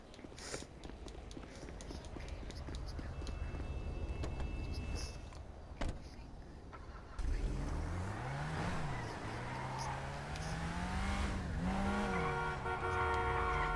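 Grand Theft Auto V gameplay with a car engine humming and droning, a sharp short tone near the middle, then a louder rising and falling engine note with a horn-like toot, continuous game ambience throughout.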